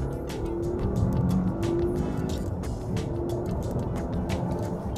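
Volvo XC90 SUV accelerating hard during a timed 0-100 speed test, a steady broadband engine and road roar that holds strong and unbroken throughout, with no talk over it.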